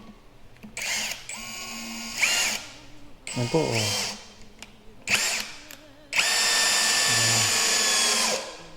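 A cordless impact hammer drill bores into wood on its lowest speed setting, whining in several short bursts and then one long sustained run, close and loud, with brief talk between bursts.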